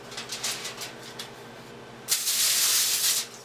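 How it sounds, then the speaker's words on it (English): Quiet rustling and handling noises give way to a single cooking spray onto aluminum foil that hisses steadily for about a second, close by. "I'm gonna spray this here foil so it won't stick"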